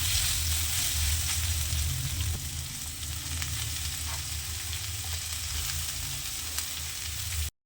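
Vegetables for spring roll filling sauté in a pan, with cabbage about to join them, giving a steady, close sizzle with occasional stirring scrapes that runs unbroken and fairly loud before cutting off abruptly at the end.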